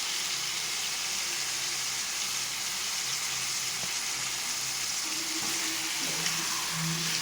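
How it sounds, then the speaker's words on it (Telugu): Chicken pieces frying in oil in a home kitchen pan, a steady close sizzle with bubbling crackle throughout and no voices. "ఆయిల్లోనే కొంచెం ఎక్కువసేపు వేయించుకుంటానండి"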